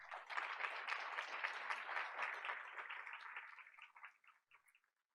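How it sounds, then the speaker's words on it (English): Scattered audience applause at a school board of education meeting, a steady patter of many hands that holds for several seconds, then thins and trails off into a few last isolated claps. "Audience, let's give No Kid Hungry a round of applause."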